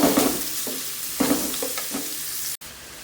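Mustard seeds, cumin, green chili, curry leaves and onion frying in a pan, a close continuous sizzle broken by several stirring strokes and scrapes, no voices.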